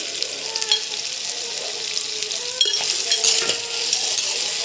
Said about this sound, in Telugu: ఇప్పుడు మనం అన్నీ వేసి పల్లీలు నువ్వులు చెక్క ఎండుమిరపకాయలు వేసి కలిపి పట్టిన మిశ్రమం కూడా వేసి